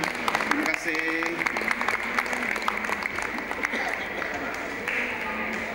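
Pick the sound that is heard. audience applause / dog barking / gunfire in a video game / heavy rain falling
audience applause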